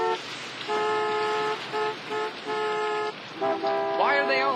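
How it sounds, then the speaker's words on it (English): Car horns honk repeatedly in a school pickup line, short and long toots in an uneven rhythm, close by, with voices talking over them. "Why are they all honking?"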